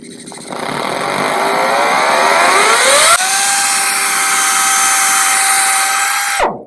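An air-powered paint buffer running slowed to about 1,500 RPM gives a loud, steady whine. Its pitch sweeps upward, then holds level for several seconds before cutting off abruptly, with no talk.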